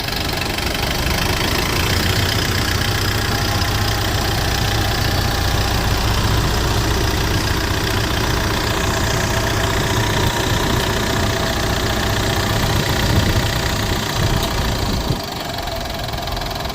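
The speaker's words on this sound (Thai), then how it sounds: "เดี๋ยวมาฟังเสียงเครื่องยนต์กันครับ" A 2014 Mitsubishi four-door automatic 4x4 pickup's diesel engine idles steadily and loudly close by, with an even knocking clatter that barely changes throughout.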